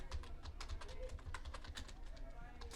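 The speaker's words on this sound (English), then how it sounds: "We go over here to type Museum Edition Canvas." Keyboard typing in steady quick keystrokes, clicking along under a low background hum and some faint talk.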